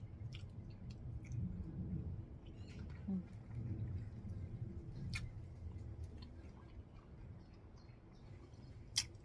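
Someone chews food from a dish of khanom chin rice noodles with canned-fish curry and chicken feet, soft moist crunching repeated in a quiet room, faint and close, with sharp little clicks between bites.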